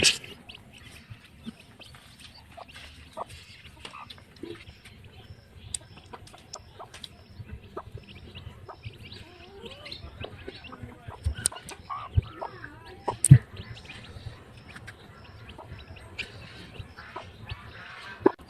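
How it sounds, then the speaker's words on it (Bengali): Chicks peck at broken rice grains on the ground while chickens cluck softly nearby, scattered quiet taps and calls over a low outdoor background. "মুরগির বাচ্চা খুদ খুঁটে খাচ্ছে।"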